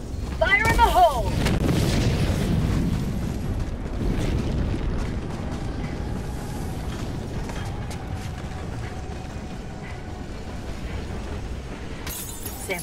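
A grenade blast in the video game Helldivers 2 opens with a sharp burst, then a long rumbling roar and crackling debris that fade slowly, with game voices underneath.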